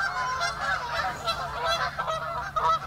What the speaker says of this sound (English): More geese! Where have all these geese come from?